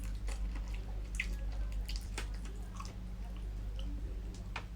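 Close, wet chewing and biting on chicken feet adobo, with soft squishy smacks and clicks over a steady low background hum.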